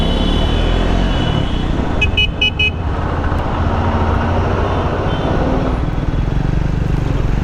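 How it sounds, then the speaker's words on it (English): Several short car horn toots sound in quick succession amid loud, steady traffic and engine rumble on a busy road. "Okay, don't honk, guys."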